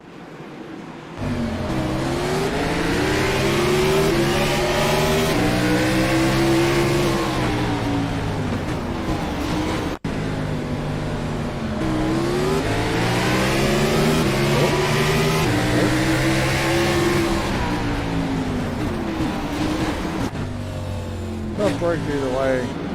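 iRacing race car at Martinsville in an East Series playoff race, heard from the in-car view during a wreck: a loud, continuous engine roar with rising and falling pitch as it revs, running steadily throughout.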